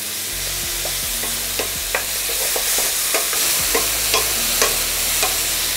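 Minced meat frying in a pan with black pepper and sea salt, stirred steadily: a continuous loud sizzle broken by repeated scraping stirs, close and without talk.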